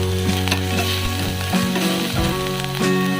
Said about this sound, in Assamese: মাছ ফ্ৰাই কৰা তেলতে এয়া দিছোঁ নহৰু